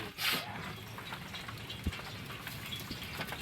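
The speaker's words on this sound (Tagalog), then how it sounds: "Nabuta na ako ng ulan." Steady rain falls during an outdoor cooking session, making a continuous, even patter with one sharp knock partway through and a brief louder splash near the start.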